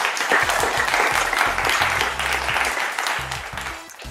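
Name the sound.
applause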